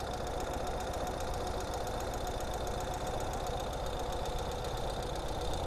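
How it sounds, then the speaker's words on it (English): A 2022 Ural Gear Up motorcycle engine runs at idle while the bike rolls in gear, a steady, close, rhythmic thumping chug with even pulses throughout and no talking. "We're still at idle."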